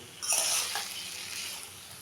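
Papaya curry with soaked peanuts is stirred in a hot pan, with a brief scraping stir and a burst of sizzling that settles into a steady, close frying hiss.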